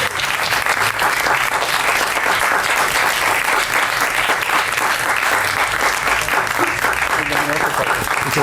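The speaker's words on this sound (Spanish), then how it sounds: "Recibamos con un súper aplauso, pero grande, que se escuche 500 metros a la redonda" Big, loud applause from an evening audience welcoming a guest teacher from Bogotá to the stage, a dense steady roar of many hands clapping throughout with faint voices underneath.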